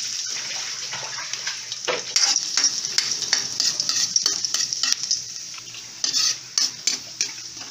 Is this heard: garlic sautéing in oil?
yes